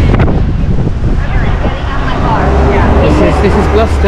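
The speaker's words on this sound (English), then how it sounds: "Can't believe how blustery it is." Strong, blustery wind on Miami Beach buffets the microphone with loud, continuous roaring gusts close up, with surf and a voice partly under the noise.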